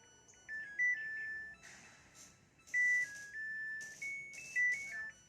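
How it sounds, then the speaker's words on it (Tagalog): A Samsung top-load fully automatic washing machine plays its end-of-cycle alarm melody, a clear electronic tune of stepped beeping notes in several phrases, close and alone. "Ayan yung music ng alarm niya."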